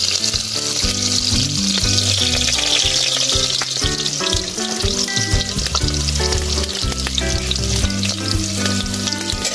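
Onion and garlic fry in a small amount of oil in a pan, a loud, steady sizzle close up with occasional stirring clatter throughout and no one speaking.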